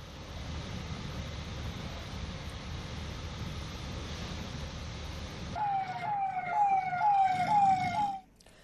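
A fire brigade siren responding to a transformer fire starts after a stretch of steady background noise, then wails in repeated rising and falling sweeps for a few seconds before cutting off.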